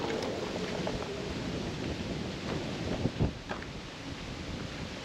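Wind gusts rumble against the microphone, steady and moderately loud, with a few brief rustles and knocks partway through.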